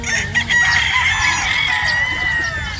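A sweater gamefowl rooster crows one loud, close, drawn-out call that fills the whole moment.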